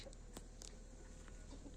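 Roosters in a home garden with lambs nearby give a few faint, distant clucks and short calls over a quiet outdoor hum.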